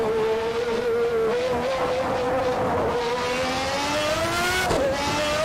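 McLaren MP4/6 Formula One car from the 1991 San Marino Grand Prix at Imola in a racing video game, its engine screaming at high revs, pitch climbing steadily through gears with a brief shift dip near the end, loud and continuous.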